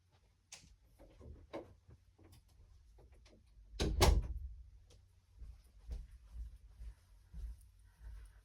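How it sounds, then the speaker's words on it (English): A door in a home is closed with a firm thump, preceded and followed by quieter knocks and handling clicks in a quiet room. "I'm going to close my door just a second."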